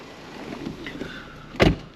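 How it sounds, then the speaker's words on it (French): The power folding side mirror of a Mercedes GLC 350d SUV hums briefly as its small motor runs, ending in a short, sharp thunk as the mirror locks into place, close and alone. "Donc rétroviseur rabattable ainsi que réglable électriquement."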